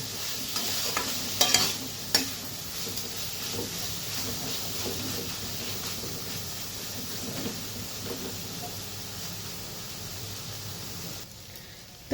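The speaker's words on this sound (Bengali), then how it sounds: "চিংড়ি মাছ দিয়ে ভালোভাবে নেড়ে নেব।" Prawns being stirred with taro stolons in a hot pan, a steady sizzle and hiss under repeated scraping strokes of the spoon, with a few sharper clinks early on, until the frying sound cuts off near the end.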